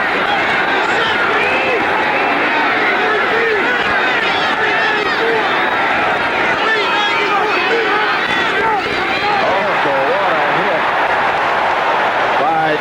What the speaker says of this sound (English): A lot to cheer about at the moment.